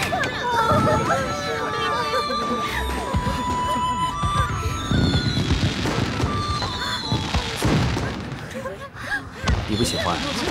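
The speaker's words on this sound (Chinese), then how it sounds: "这烟花虽好，也是热闹" Fireworks burst at a festive night celebration in a loud, crackling barrage of pops and booms that runs throughout, with crowd chatter mixed underneath.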